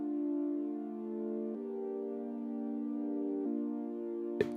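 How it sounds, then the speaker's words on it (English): Filtered-down saw synth chords with three unison voices in a melodic house arrangement, sustained and mellow, shifting chord every second and a half or so, ending with a brief bright percussive hit. "The saw chords sound like this."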